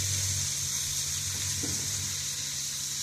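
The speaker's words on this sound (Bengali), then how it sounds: "এই কাঁচা জিরের গুঁড়ো দিলাম" Steady, close sizzle of hot oil in a village kitchen pan as raw ground cumin goes in, a continuous hiss running evenly from start to finish with a faint low hum underneath.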